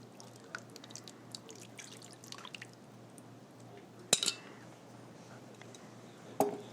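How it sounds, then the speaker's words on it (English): Marinade liquid is poured in a kitchen, heard as a faint, soft trickle and dripping, close by and quiet, ending in a couple of sharper clinks or taps. "And we're going to pour it."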